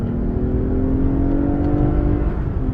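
A 2021 Lexus ES350 F Sport pulls away under acceleration, its engine note rising steadily with a smooth whirring hum heard from inside the cabin.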